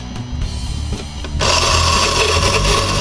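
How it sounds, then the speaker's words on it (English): Coffee beans are ground in a blender on the grate setting: a low rumbling motor with rattling, then a sudden switch to a loud, harsh continuous grinding roar of beans hitting the blades at close range. "Okay, I'm going to start low. I'm going to start on grate."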